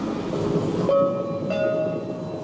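Short electronic beep from an EasyCard being swiped at a Taipei MRT entry gate, a steady tone rising out of a busy station backdrop of rail noise and crowd hum, followed by a second brief beep.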